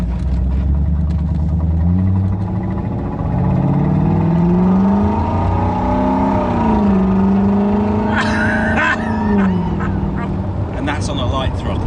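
Mk2 Jaguar fitted with a supercharged V8 and straight-pipe exhaust pulls away gently, a loud, deep, continuous engine drone that rises and falls in pitch, close up, while people talk over it.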